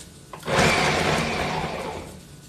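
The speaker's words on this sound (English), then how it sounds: "Makes for a great food processor as well as this smoothie blender." A smoothie blender starts up abruptly and runs at a loud, steady whir, easing slightly toward the end, with no talking.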